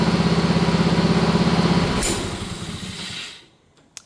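A Honda HRM215 lawn mower engine idles with a steady pulsing chug, then winds down and fades out, leaving a brief quiet and a single small click near the end.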